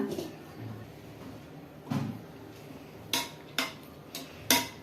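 Rice being spread and levelled in a pot of chicken biryani, a few soft scrapes followed by several sharp spoon taps on the pot rim, faint and close.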